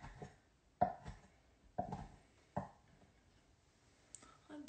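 A knife chops pasta salad ingredients into bite-sized pieces on a board, with a few sharp, separate strikes spaced about a second apart. The sound is close and quiet, and the stretches between strikes are nearly silent.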